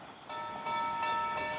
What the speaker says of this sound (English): The 1880 train coming